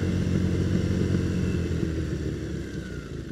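A motorcycle is ridden along at steady speed, its engine a continuous close rumble mixed with wind noise that eases slightly toward the end, picked up by a helmet-mounted wireless microphone, with no talking.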